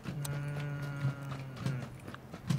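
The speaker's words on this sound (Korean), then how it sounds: "다른 발소리 들렸어" Footsteps in the battle royale game PUBG during a squad match around Pecado: a few hard, irregular clacking steps sound over a steady low in-game hum.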